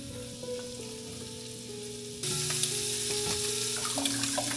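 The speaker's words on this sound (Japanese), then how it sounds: "切ったものをフライパンで炒める。" Chopped onion and ham stir-frying in a frying pan, a close crackling sizzle that jumps louder partway through over a low steady hum, no talking.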